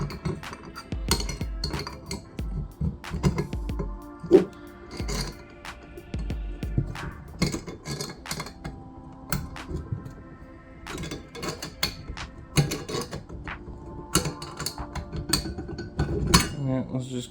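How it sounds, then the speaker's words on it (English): Adjustable wrench tightening crush washers on model rocket parts, heard as repeated close metallic clinks, taps and scrapes in an irregular rhythm, fairly quiet throughout. "I'm just going to use an adjustable wrench for this process, for the sake of brevity."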